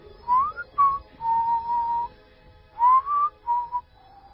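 A single person whistles a few sustained, wavering notes in short phrases separated by brief pauses, close and clear over a faint low background hum.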